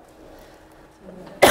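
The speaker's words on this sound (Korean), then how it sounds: "제가 기침이 나서요." One short, sharp cough or throat clearing comes close and loud at the very end, after a near-silent stretch during an indoor lecture.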